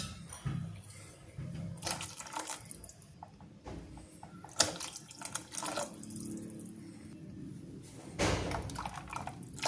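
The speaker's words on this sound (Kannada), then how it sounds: "ಜಾರ್ ತೊಳೆದಿರೋ ನೀರನ್ನು ಹಾಕ್ಕೊತಾ ಇದ್ದೀನಿ." Water from rinsing a mixer jar is poured into tomato rasam in a home kitchen, giving splashy, gurgling bursts of liquid that come and go over several seconds, with small clinks between.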